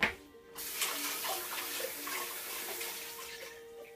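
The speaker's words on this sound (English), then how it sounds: "and then you can rinse your hands." Tap water runs while hands are rinsed at a kitchen sink, a close, steady splashing stream that begins abruptly and continues without talk.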